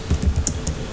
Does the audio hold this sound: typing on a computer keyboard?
yes